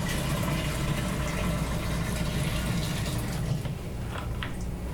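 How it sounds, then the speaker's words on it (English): Diluted System Maintainer cleaning solution is poured into the solution tank of a Mytee carpet extractor, a steady broadband rush of liquid that runs loud and continuous for several seconds, then eases near the end. "We're going to go ahead and add it to our solution tank."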